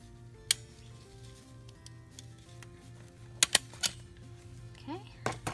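A paper envelope embellishment is snipped with scissors, then stapled, giving a few sharp close clicks and crunches spaced across a quiet room. A low steady hum sits underneath.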